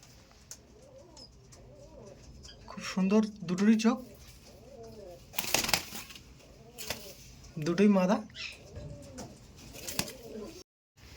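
Madrasi flying pigeons coo in low, throaty bursts close by, several calls repeating across the clip, with people talking nearby and some rustling.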